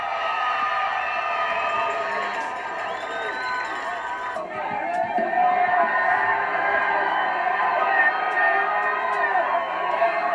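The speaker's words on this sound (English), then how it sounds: "And the crowd goes wild." A high school football crowd cheers and whoops wildly, a dense, sustained roar of many voices that swells louder in the second half, with scattered shouts rising above the mass.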